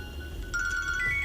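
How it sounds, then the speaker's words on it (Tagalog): Mobile phone text message notification tone, a short bright electronic chime sounding indoors at moderate volume over a quiet background. "Oh. May text."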